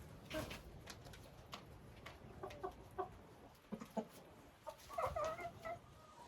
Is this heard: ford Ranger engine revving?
no